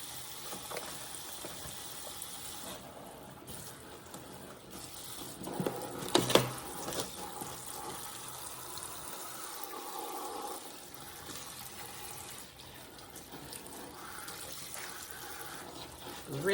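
Tap water runs steadily into a kitchen sink as fresh collard greens are rinsed of surface dirt, a continuous broadband splashing and gushing with a brief louder burst partway through.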